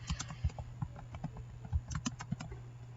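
Quick, light clicks of keys on a computer keyboard tap out in an uneven patter, close and fairly quiet, with no talking.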